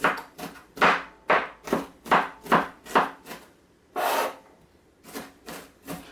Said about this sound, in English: So I'm chopping it up kind of fine.